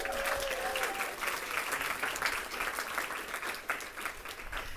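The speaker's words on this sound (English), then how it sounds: "A round of applause, please," Wedding guests at an outdoor ceremony applauding a sibling, a steady wash of dense clapping held at a moderate level, with a faint tonal sound early on.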